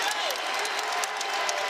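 Basketball arena crowd during an NC State at Clemson men's game, a broad steady roar of cheering and clapping with a commentator talking over it.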